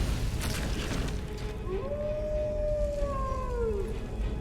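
A dog in a modded Skyrim video game gives a single long, rising and falling howl that lasts about two seconds, heard fairly clearly over a low rumbling in-game ambience.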